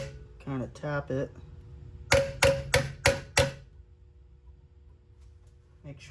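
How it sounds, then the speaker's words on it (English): Five sharp metallic hammer taps, evenly spaced, seat an engine part during a 454 big-block top end assembly; a short burst of speech comes just before them, and the workshop falls quiet afterward. "Take a hammer, just kind of tap it."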